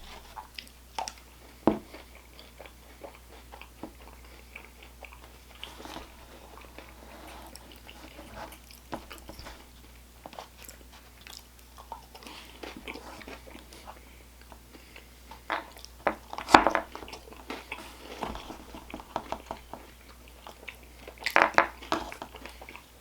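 Someone eats a salted pretzel caramel apple pie McFlurry up close, with quiet, intermittent wet chewing and spoon clicks and a few sharper crunchy bites toward the end.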